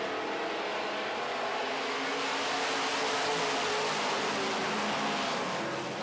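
Midwest Modified race cars roar past on an oval track under caution near an orange cone, a steady, loud blend of engine noise and crowd-level ambience with no clear individual pass standing out.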